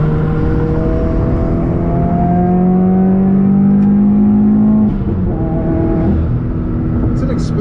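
A tuned 2015 Subaru WRX with its FA20DIT turbocharged engine accelerates on the road, heard loud from inside the cabin; the engine note climbs steadily in pitch, drops at a gear change, then rises again, with a voice talking over it.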